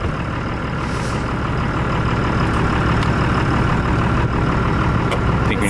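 A '78 Dodge Macho Power Wagon truck rolls forward for a brake test, its engine a loud, steady rumble close by, running continuously with faint knocks and rattles on top.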